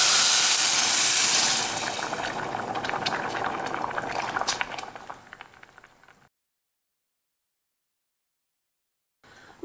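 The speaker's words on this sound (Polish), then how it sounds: "Dolewam wówczas 2 miarki gorącej wody" Hot water is poured into a pan of butter-coated rice and hisses into a loud, bubbling boil that gradually fades. The sound cuts to silence midway, then resumes briefly at the end.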